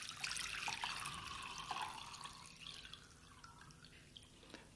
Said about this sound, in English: Then all I need to do is add fresh water,